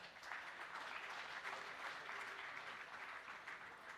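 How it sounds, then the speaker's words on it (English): An audience at the MindMine Summit 2017 gives a sustained round of applause, an even, distant-sounding wash of many clapping hands that holds for several seconds. "Can we have a round of applause for that?"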